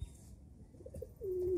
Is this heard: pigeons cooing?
yes